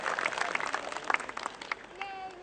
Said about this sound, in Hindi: एक बार जोरदार तालियों से हम उनका हौसला बढ़ाते हैं